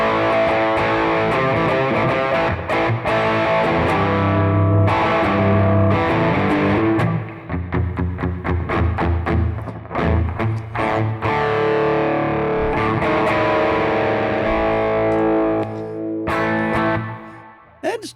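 Electric guitar driven through a Wampler Brent Mason ReWired overdrive/distortion pedal into an amp, played loud and alone as crunchy distorted chords and riffs with a short pause midway and a final ringing hit.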